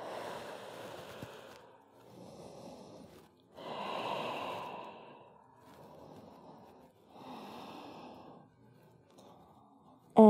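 Slow, deep breaths during a yoga stretch on all fours, several long airy inhales and exhales in a steady rhythm, close and fairly soft with short pauses between them.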